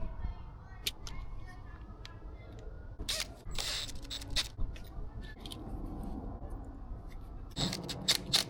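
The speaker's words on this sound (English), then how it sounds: "Snip this a little bit more." Scissors or wire snips cut electrical wire ends while wiring an outlet in a hoarder house, giving a few sharp close clicks and snaps between quieter handling noises.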